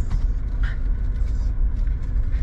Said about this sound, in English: we get a lot of traffic